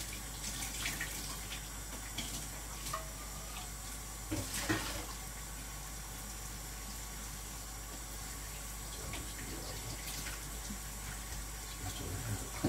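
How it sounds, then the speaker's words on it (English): Hot water running from a tap, a steady broadband rush that continues unbroken, with a few clinks and knocks on top and no talk. "Cool you off by using the hot water that's currently running."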